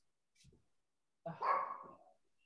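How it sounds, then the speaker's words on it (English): A dog barks indoors during a lecture, one faint short yelp followed by a louder, fuller bark that trails off, heard close and alone. "The dog is barking."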